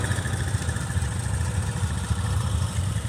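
A Honda Rincon ATV idles close by with a steady, throbbing low engine chug, even and continuous, with no voices over it.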